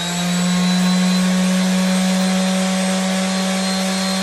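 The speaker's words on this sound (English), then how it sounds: "I'm using 220 grit on my Bosch random orbital sander." A Bosch random orbital sander with 220-grit paper sands a wooden bookshelf, running steadily with a loud motor whine and an even, rough sanding hiss, with no pauses.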